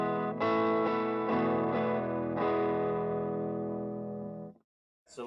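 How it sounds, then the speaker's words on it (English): Electric guitar on the neck pickup, played clean with no pedals engaged, rings out in a few sustained chords with strong harmonics that slowly decay to silence, followed by a brief new attack at the very end. "And this is neck pickup."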